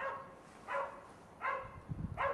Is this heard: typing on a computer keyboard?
no